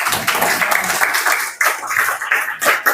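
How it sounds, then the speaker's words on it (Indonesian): Children clapping together in a classroom, a short burst of brisk, fairly close applause from many small hands, slightly uneven, with no talk over it. "Tepuk tangan buat si Arta dong."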